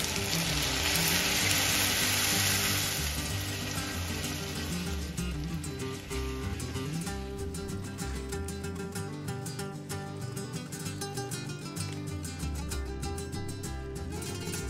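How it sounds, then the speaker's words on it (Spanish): Chopped chili fried with chorizo in a pan, a loud close sizzle that drops as cooked beans are added, then a softer steady bubbling simmer with faint stirring. "Un minuto después incorporamos 2 tazas de frijoles cocidos."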